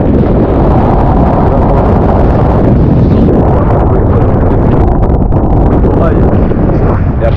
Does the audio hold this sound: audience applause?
no